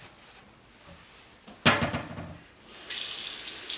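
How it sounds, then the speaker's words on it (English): Warm water runs from a kitchen tap into a mixing bowl for bread dough, preceded by a sharp clunk; the faucet then opens into a steady, close hissing stream. "you add the warm water."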